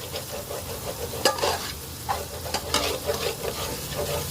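Spice masala of green chilli, turmeric, chilli, cumin, ginger and garlic fried and stirred in a pan for a fish and lentil dish, a steady close sizzle broken by sharp scrapes and clacks of the spoon against the pan.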